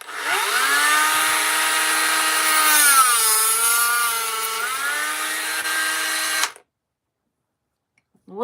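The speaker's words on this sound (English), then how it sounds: "Buckle up, Dremel coming on." Dremel rotary tool grinding on SCX24 metal upgrade parts: a loud, steady high-pitched whine that dips briefly in pitch under load midway, then cuts off abruptly into silence.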